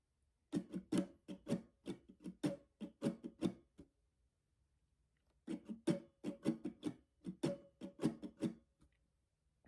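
Acoustic guitar strummed in an alternating up-and-down pattern for a song, two bursts of quick rhythmic chords separated by a short pause, close and clear.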